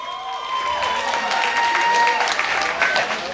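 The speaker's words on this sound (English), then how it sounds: "Clap it up." Crowd at an Uptown comedy show clapping and cheering, a bright, loud mass of applause with whoops and a few voices calling out over it, holding steady for the whole stretch.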